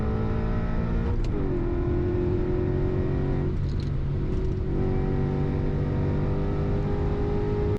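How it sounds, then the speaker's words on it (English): BMW E39 M5 V8 heard from inside the cabin, running a Super Sprint X pipe with no muffler: a loud, steady engine drone that holds throughout, with brief rev swells and shifts in pitch, no talking. "So if you just ran the Super Sprint minus a muffler, that's what it would sound like."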